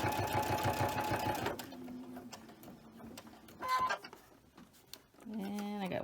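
A sewing machine stitches a quilt seam, running in a fast steady whir for about a second and a half, then stopping and starting in short bursts with faint handling noise between.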